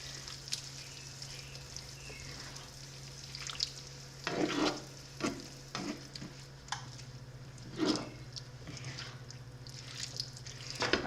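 A sloppy joe mixture with added water bubbles and sizzles in a pan while a spoon stirs it, giving repeated wet scraping swishes over a steady low simmer, close and moderately loud with no voices.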